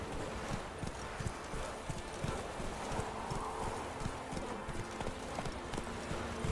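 A horse's hooves clip-clop in The Witcher 3: Wild Hunt, a quick, even rhythm of moderate loudness running through the whole stretch, with no one talking over it.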